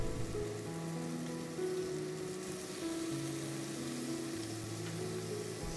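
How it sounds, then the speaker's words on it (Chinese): Sliced, parboiled pork belly dry-frying in a pan over medium heat with no added oil gives a steady, even sizzle that crackles on without a break, like rain on a surface, with no voices. "开火落五花肉，不用落油，用中火煎它"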